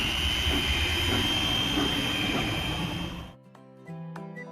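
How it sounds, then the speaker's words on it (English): A rail grinder polishing new rails in a kids' construction game: a loud, steady mechanical whine and roar for about three seconds, then it cuts off and bright chiming musical tones follow. "Let's polish the new rails to a shine."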